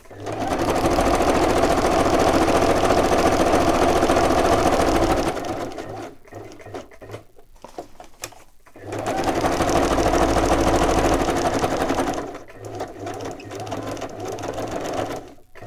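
A sewing machine stitches through fragile paper in two steady, rapid runs of several seconds each, close and loud, separated by a quieter pause with light handling noises.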